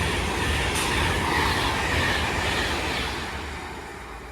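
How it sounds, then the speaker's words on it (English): A London Euston to Manchester Piccadilly train passes through Watford Junction at speed, a loud, close rush of wheels and rail noise that begins to fade toward the end. "passing through now is the London Euston Manchester Piccadilly"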